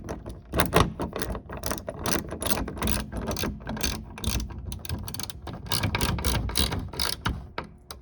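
Ratchet wrench clicking rapidly as it tightens a roof bolt on a C4 Corvette, an irregular run of sharp metallic ratcheting bursts, close and steady with brief pauses.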